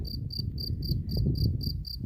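A cricket chirps in the countryside in midsummer, a steady run of evenly spaced, bright chirps repeating about four times a second over a low outdoor rumble, with no talking.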